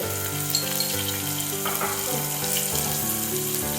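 Okra sizzles steadily as it fries in a pan with turmeric, chili powder and salt, with the hiss running continuously and faint scraping from stirring, and no voices.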